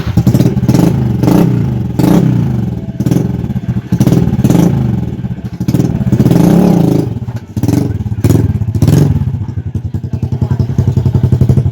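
A trail motorcycle engine idles and revs in repeated loud bursts, close by, with brief pauses between throttle blips.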